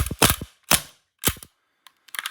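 A Tokyo Marui Sig Sauer P226 airsoft pistol running on green gas fires several sharp, close cracks in quick succession with short pauses, ending in a faint rapid pair of shots.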